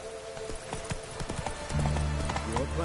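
Horse hooves clatter in The Witcher 3, quick uneven clip-clops up close while a low tonal drone from the game swells in behind them, with a short neigh near the end.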